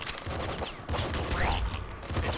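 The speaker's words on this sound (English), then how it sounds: "a sort of face full of this rapid-fire SMG shot" Rapid-fire SMG shooting in the pixel-art video game Nuclear Throne, a loud, dense stream of quick shots running the whole moment alongside other game effects.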